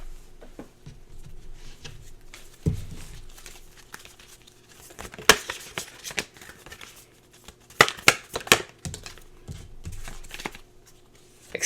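Oracle cards are shuffled and tumble out of the deck, producing scattered papery crinkles, flicks and slaps, with a few louder bursts of card clatter among quieter rustling close by.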